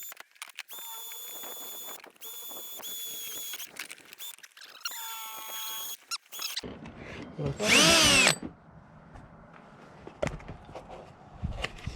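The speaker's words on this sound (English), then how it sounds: "We'll drill a hole." A power drill whines in several short bursts, then one louder, sustained run bores a hole in a Jeep Wrangler JLUR before stopping, followed by light handling noises.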